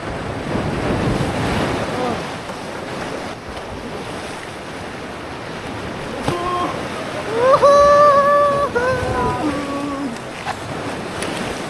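Ocean waves wash and break against rocks along a rocky shore, a steady moderate surf roar with a louder surge near the end, and a faint tonal cry rising over the waves partway through.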